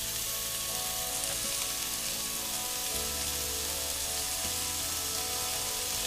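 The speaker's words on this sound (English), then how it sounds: "Get a nice sizzle from it." Steady, loud sizzling of beef frying in a hot pan, a continuous crackling hiss with no talking.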